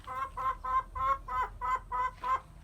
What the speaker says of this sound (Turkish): Burada bizim tavuklarımız yumurtluyorlar.